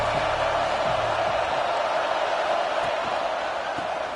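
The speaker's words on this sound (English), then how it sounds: "This crowd ready to make its presence known." Dense, continuous roar of a football stadium crowd, a steady wash of cheering and noise at full volume throughout, with no pauses or distinct voices standing out.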